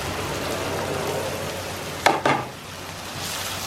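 Ginger garlic paste sizzles steadily in hot oil in a pan during cooking of Anglo-Indian pork vindaloo, with two brief scraping stirs that briefly lift the frying hiss.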